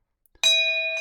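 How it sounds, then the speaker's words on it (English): A bright bell ding sounds once as a subscribe-icon sound effect, ringing clear and sustained for the rest of the moment after a couple of faint clicks. "See, you just heard that, like church bells on a Sunday morning."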